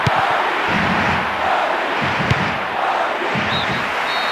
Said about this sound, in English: The crowd really approved.